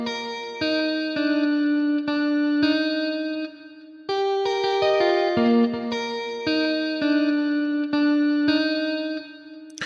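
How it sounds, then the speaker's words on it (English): Acoustic guitar preset from the Dark Star patch in FL Studio's Flex synth, playing choppy, rhythmic chords with bright harmonics, short gaps between strums and a shift to a higher chord midway, loud and alone without talk. "Essential Guitars folder using the Dark Star acoustic preset"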